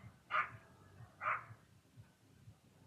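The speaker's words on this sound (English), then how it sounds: "there's that dog, Bella." A dog gives two sharp barks about a second apart, heard at a moderate distance over a quiet outdoor background with faint low thumps.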